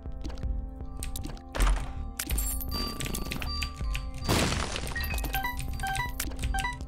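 Rocks smashed apart in The Binding of Isaac, a series of thunking cracks and crumbling breaks over steady game music, with several impacts spaced through the stretch.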